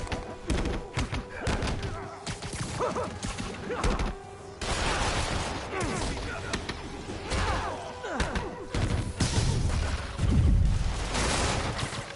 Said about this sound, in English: There he is! Open fire!